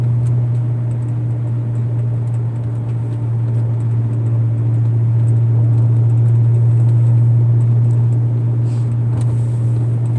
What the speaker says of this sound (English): I'm driving down the road